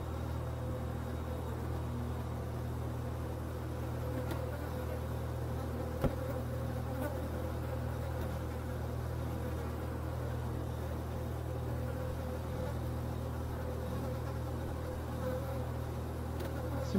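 Steady insect buzzing of a fly or cockroach infestation in the ghost-hunting game Ghost Exorcism Inc, a continuous droning hum that holds evenly throughout with no talking.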